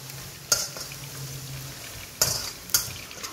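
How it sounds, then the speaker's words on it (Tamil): Chilli chicken with Kashmiri chilli powder stirred in a hot pan, a soft sizzle underneath with three sharp metal scrapes and clinks of the spoon against the pan spaced across the moment, close and clear without talk. "ஸோ இதை வந்து நல்லா மிக்ஸ் பண்ணி விட்டுறலாம்."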